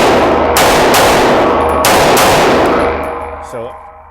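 Two sharp gunshots from a Smith & Wesson Equalizer pistol fired in quick succession at close range, the second followed by a ringing, fading tail.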